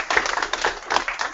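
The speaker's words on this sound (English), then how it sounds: "Let's give him a huge clap." An audience claps for a presenter at a local food community gathering, a steady burst of many hands applauding together, close and lively, lasting only a moment.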